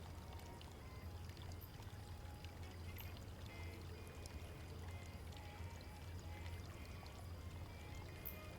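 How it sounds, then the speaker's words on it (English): Water from a fountain runs into a bottle in a game scene, a faint, steady pouring trickle with small splashes over a low background hum, and no one speaks. "filled the bottle with water from the fountain."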